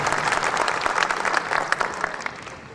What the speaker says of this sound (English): a big round of applause to Ahira and Mr. Dua.